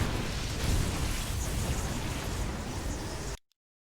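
A Widow Mine detonating in StarCraft II, a loud, noisy burst of game explosion that rumbles for about three seconds before cutting off abruptly into silence.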